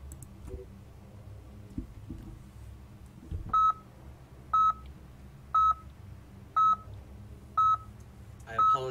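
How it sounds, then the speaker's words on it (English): Six loud, evenly spaced electronic beeps in the Ghost Recon video game, each a short tone repeating about once a second over a low ambient rumble. "I apologize for the loud beeping."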